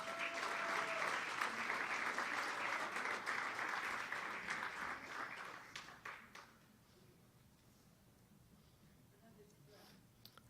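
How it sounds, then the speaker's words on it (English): An audience at the 2016 California Plus America Pageant applauds a contestant in the evening gown competition, a full round of clapping that holds strong for about six seconds, thins out and leaves quiet room tone. "Give her a round of applause."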